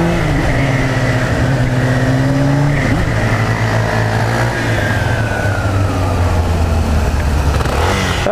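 A new motorcycle revs and accelerates through a maneuver, its engine note rising and falling in loud sustained whines up close, with no talking.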